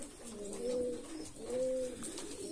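Domestic pigeons coo softly in two low, drawn-out phrases, close by but quiet, with no voices.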